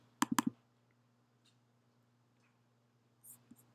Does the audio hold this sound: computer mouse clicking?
yes